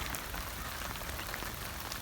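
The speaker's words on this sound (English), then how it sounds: "Well, it's raining" Steady rain patters on a surface, a dense, even hiss of drops with no other sounds.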